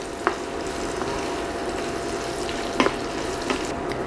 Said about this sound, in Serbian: dodajemo papriku i zajedno sve pržimo još 5 minuta